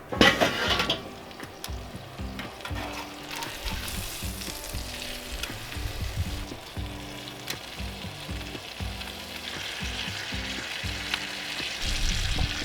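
Pork chops frying on a Weber griddle, a steady crackling sizzle throughout with intermittent metallic scrapes and clinks of a spatula turning the meat.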